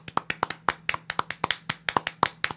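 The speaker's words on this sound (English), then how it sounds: "So can we get a round of applause for me?" Hand clapping heard close, a quick run of crisp, somewhat uneven claps that sounds like a small number of hands rather than a large crowd.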